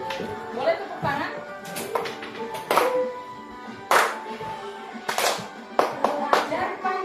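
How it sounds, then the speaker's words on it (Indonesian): Schoolchildren in a remote Kalimantan village classroom clap their hands in scattered, uneven bursts of sharp claps, with singing or talking voices running alongside. "Boleh tepuk tangan?"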